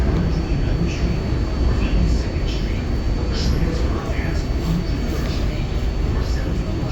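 A New York 7 subway train sits in the station with a steady, loud rumble and hiss of the carriage, faint clanks over it, and a spoken announcement running on top.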